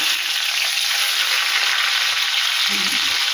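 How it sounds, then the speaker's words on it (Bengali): Boiled eggs frying in hot spiced oil in a pan for a cauliflower egg curry, a steady loud sizzle throughout with a brief low stir near the end. "ডিম ভেজে নেব ডিমগুলো"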